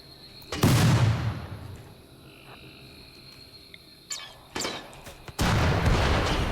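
Mortar rounds in a video game land in three heavy booming blasts spaced a few seconds apart, loud and close, with quieter battlefield noise between them.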